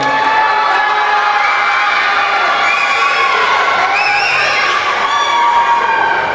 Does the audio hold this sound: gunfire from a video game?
no